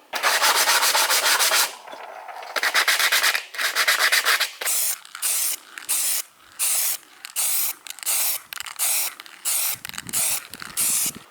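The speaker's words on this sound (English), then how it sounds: "I'm going to sandpaper this and paint or stain that base" Sandpaper rubbed by hand across a wooden base, a close series of rasping strokes, long sweeps at first, then shorter, evenly spaced back-and-forth passes.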